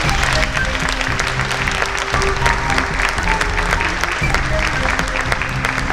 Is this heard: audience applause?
yes